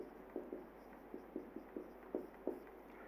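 Pen or chalk writing out a short note during a chemistry lesson, heard as a quiet series of soft scratchy strokes in an irregular rhythm, close by and with no talk.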